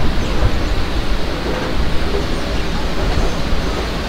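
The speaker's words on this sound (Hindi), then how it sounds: "I think guys some freight train is approaching towards us." A freight train approaches in the Open Rails train simulator on an Indian Railways route, a loud, continuous broadband rumble with no breaks.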